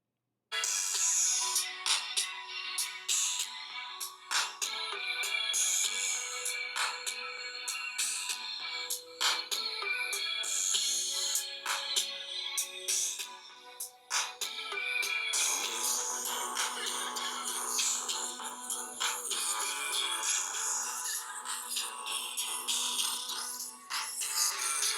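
A mellow ballad demo song plays back from a phone speaker, a steady, continuous musical bed with sustained tones and occasional percussive accents, moderately loud and without talk over it.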